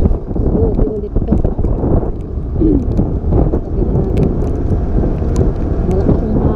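Strong wind roars steadily against a rider in the rain on a Manila flyover during a delivery trip, a continuous low buffeting rumble with intermittent gusts and background road noise.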